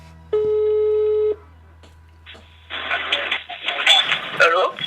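A single short electronic telephone ringing tone sounds clearly at the start of a call, followed by a pause and then people talking.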